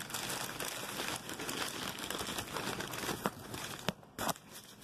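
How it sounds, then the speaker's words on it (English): Wrapping paper crumples and crinkles close up as quartz crystals on lace agate are unwrapped, a continuous rustling with a few sharper tearing crackles near the end. "I know this paper makes heck of a noise."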